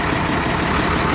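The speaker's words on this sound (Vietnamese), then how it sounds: "Máy đang nổ luôn, rất là êm, rất là nhẹ nhàng luôn." A Massey Ferguson 3080 tractor with a 105-horsepower six-cylinder engine, four-wheel drive and mechanical gearbox idles smoothly and steadily nearby, a low continuous rumble with no voices.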